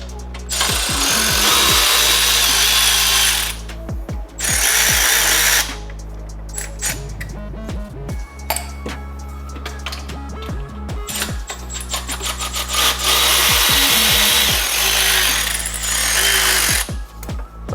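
A power tool works 12mm bolts loose on a Honda FL5 Type R, loud and close, in long whirring runs broken by pauses, stop-start bursts and ratcheting clicks.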